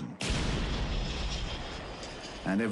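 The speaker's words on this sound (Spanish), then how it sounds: "de repente una gran explosión" A large wartime explosion erupts suddenly in a close, loud blast, followed by sustained rumbling roar from anti-aircraft fire near an airfield, with a brief louder burst at the end.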